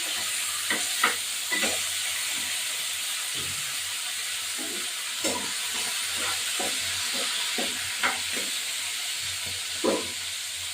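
Tomatoes and green peas fry in a wok with crushed ginger for a vegetarian cabbage dish, producing a steady close sizzle and hiss broken by a series of scraping stirring strokes.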